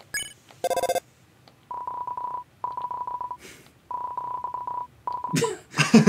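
A cell phone rings in the video game Deltarune with repeated electronic trilling tones in evenly spaced bursts. The rings are preceded by short chiptune blips, and a brief breathy vocal sound comes near the end.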